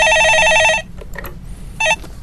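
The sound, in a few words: telephone ringing on live radio call-in show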